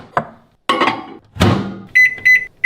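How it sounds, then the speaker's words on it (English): A microwave oven heating spinach with a couple of tablespoons of water gives a few sharp clunks and knocks, then a run of loud, high, steady beeps near the end. "So that's just microwaving in there with a couple of tablespoons of water."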